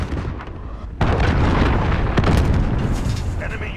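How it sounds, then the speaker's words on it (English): A cruise missile blows up in a video game, a loud sudden boom about a second in that rolls into a sustained rumbling blast, with a second burst after. "Enemy cruise missile incoming."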